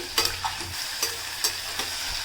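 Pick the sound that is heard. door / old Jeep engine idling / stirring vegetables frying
stirring vegetables frying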